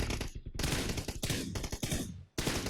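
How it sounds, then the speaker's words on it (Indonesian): Video game weapon firing, played back through a Rexus HD100 capture card, loud rapid bursts of automatic gunfire in several strings separated by brief pauses. "Kita coba pakai senjata ya. Kita tembakan ya."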